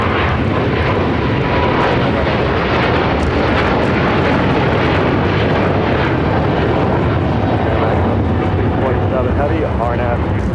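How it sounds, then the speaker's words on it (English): A China Eastern Boeing 777-300ER takes off, a loud, continuous broadband jet engine roar that holds steady throughout, with a voice talking faintly underneath. "This is China Eastern Airlines 586 taking off to Shanghai on 777-300ER"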